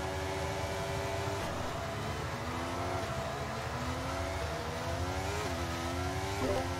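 Formula 1 cars revving in F1 23 at a race start, high engine notes that climb and drop through gear changes as several cars accelerate together, steady and fairly loud with no voices.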